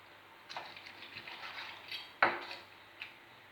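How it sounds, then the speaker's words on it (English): A knife cuts pig heart into bite-size pieces for a country-style Jamaican breakfast, making soft, quiet chops and taps on a board, with one sharper knock near the end and no voices. "see we here cutting up our heart in bite sizes"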